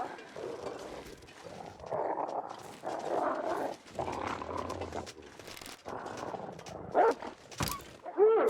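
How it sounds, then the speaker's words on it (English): Wolves in the survival video game The Long Dark give a run of growling, whining barks and yips over several seconds, moderately loud with bursts in close succession, ending in sharper yelps. "That's a wolf."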